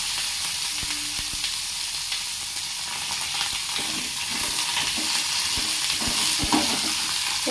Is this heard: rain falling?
no